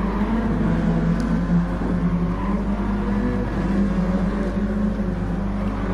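Racing cars at Circuit de Barcelona-Catalunya in a racing game, a constant low engine drone with a steady rumble, no distinct passes standing out.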